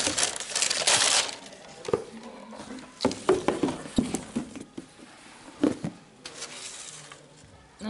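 Paper wrapping inside an Air Jordan 7 sneaker box crinkles and rustles as it is handled, with a loud crumpling burst at the start followed by scattered nearby crackles and taps.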